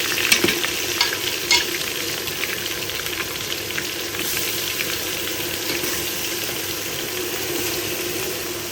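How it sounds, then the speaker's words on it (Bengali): Onion, ginger and garlic paste sizzles and spatters in hot oil, a steady crackling fry with occasional stirring scrapes, close and fairly quiet. "এখানে পেঁয়াজ আদা রসুনের পেস্টটা দিয়ে দিয়েছি তেলে।"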